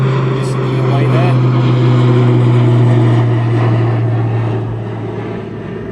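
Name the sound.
aircraft passing by at East Midlands Airport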